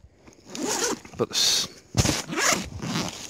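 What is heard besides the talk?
YKK zipper on Maxpedition Monsoon pouch being zipped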